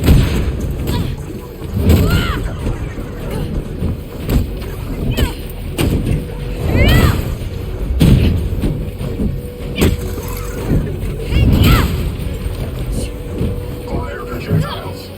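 Grenade explosions in the video game South Park: The Fractured But Whole land as repeated deep booms spaced a second or two apart, heavy and close, with game voices and effects chattering between the blasts.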